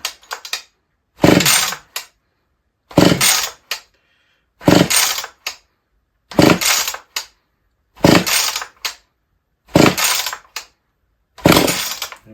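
An old white-top Husqvarna 44 chainsaw is pull-started seven times in a steady rhythm. Each loud, close, roughly one-second rasping burst is followed by silence, and the engine never settles into running.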